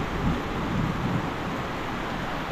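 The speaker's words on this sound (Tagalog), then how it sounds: "Sana ay tumigil ang ulan." Steady rain falling outdoors in Casiguran, a constant broadband hiss with a low rumble, even and unbroken throughout with no voices.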